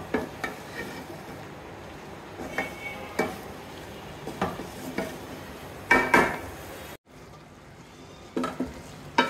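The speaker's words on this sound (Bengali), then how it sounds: "এখন আমি দিয়ে দেব লতি, যে লতিগুলো কেটে ধুয়ে দিচ্ছিলাম সেগুলো দিয়ে দেব। ভালো করে নেড়ে দেব।" Taro stolons (loti) with prawns being stirred in a pan, a run of scraping, clinking strokes against the metal every second or so over a low frying hiss, with a short silent gap before the stirring resumes.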